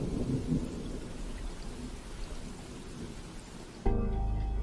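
Steady rainfall and rolling thunder from the video game Nocturne, a rainy late-night scene; dense rain hiss and low rumbles run for nearly four seconds before cutting abruptly to a different sound.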